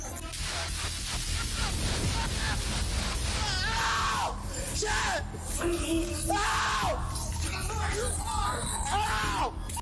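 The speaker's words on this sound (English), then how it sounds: "That is an officer screaming." Police officer screaming and yelling loudly during a tense armed confrontation, with repeated strained shouts and bellows over a noisy, chaotic background that stays loud throughout.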